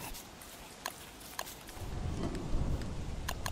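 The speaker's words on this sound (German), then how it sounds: "Wieso muss es jetzt anfangen zu gewittern," A thunderstorm in the video game Don't Starve brings a low rumble of thunder and steady rain that swell in the second half, under scattered sharp clicks from the game.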